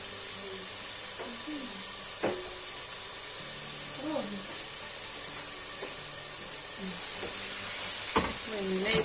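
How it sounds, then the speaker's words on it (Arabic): Vegetables sautéing in butter and country olive oil give a steady soft sizzle and hiss throughout, with occasional voices talking faintly over the cooking. "هاد الخضره هنا باقا كتشحر"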